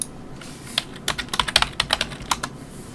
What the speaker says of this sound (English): If we type in simply Avengers,